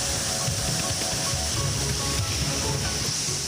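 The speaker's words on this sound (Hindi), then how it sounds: "पहाड़ से गिरता हजारों लीटर पानी" Thousands of litres of water pour from a mountain as a waterfall, giving a steady, dense broadband roar with a low rumble underneath that holds constant throughout.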